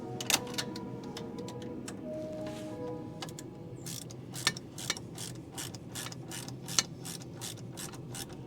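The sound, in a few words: ratchet running in ball joint bolt on Civic Type R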